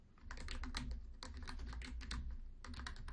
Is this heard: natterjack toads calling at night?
no